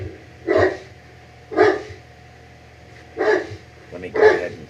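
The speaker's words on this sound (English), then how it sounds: "That's my dog in the background barking at the mailman." A dog barks at the mailman in the background, four separate muffled barks spaced about a second apart, indoors and moderately distant.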